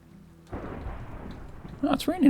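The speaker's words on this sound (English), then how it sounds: "Oh, it's raining outside." Rain in Minecraft sets in as a steady hiss, and a rumbling burst of game thunder grows louder toward the end.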